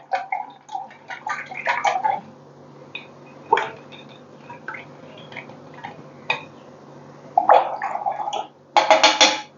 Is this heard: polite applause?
no